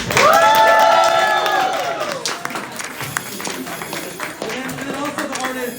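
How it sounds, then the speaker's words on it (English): An exhibition crowd applauds and cheers the curators, with clapping mixed under loud excited voices and whoops, the cheering strongest at first and then settling into scattered claps and chatter. "One more round of applause for the curators"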